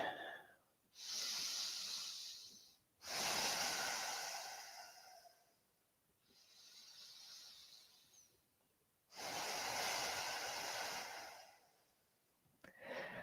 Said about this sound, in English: Take a couple big deep breaths here.